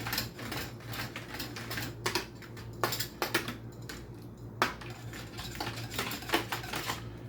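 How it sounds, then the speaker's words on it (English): Eggs and cherries being mixed in a bowl, a spoon clicking and tapping against the side in irregular light knocks over a low steady hum, close and quiet with no talk. "Get the eggs and the cherry mixed in a bit."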